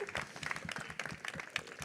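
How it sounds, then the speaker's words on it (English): Audience applauding at a climate initiative award ceremony, many hands clapping in a steady, fairly soft wash that fills the room. "So, yes, an applause, because I think we have been waiting for this moment for very, very long."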